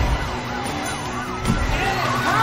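Police car sirens wail in a cartoon chase, several rising and falling tones overlapping over a rumbling engine and busy background sound, moderately loud and continuous.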